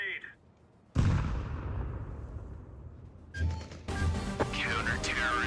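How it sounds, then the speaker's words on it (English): A grenade bursts in the shooter game Counter-Strike with a loud, sudden boom and a long rumbling tail. Other game sounds and a voice follow after it. "Throwing a grenade."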